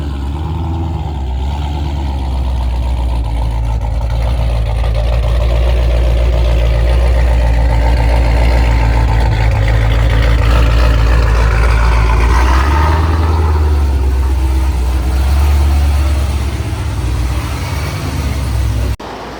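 A 2012 SRT Challenger Yellow Jacket Edition with a stroker engine and Whipple supercharger idles loud and close, a deep throbbing rumble with a lumpy, uneven pulse that holds steady for about twenty seconds.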